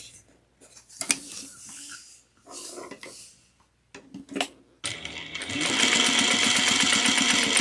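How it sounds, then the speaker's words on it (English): Sewing machine stitching around the edge of a Minerva tote bag, starting after a few handling clicks and rustles of fabric, then running in a steady close whirring rhythm to the end. "We're going to stitch 1/8 of an inch all the way around"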